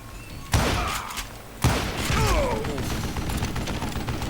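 Two sharp, loud rifle shots about a second apart in the Call of Juarez Gunslinger Western shooter game, each followed by a rumbling tail and mechanical clatter, with game voices murmuring underneath.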